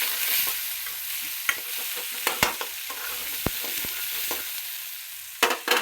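Tomato, onion and chili sizzle in hot oil with a steady frying hiss, broken by sharp clicks and scrapes of a utensil stirring the pan, up close with no voices.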